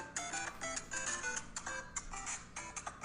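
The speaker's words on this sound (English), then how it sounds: "Excuse my phone." A mobile phone goes off nearby with a bright, repeating electronic melody that runs steadily for a few seconds, and no one speaks over it.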